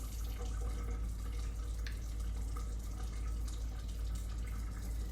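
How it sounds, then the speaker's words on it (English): A steady stream of tap water runs continuously, close and fairly loud, as hands are rinsed beneath it, with light splashing and drips over an unbroken flow. "And then go ahead and rinse."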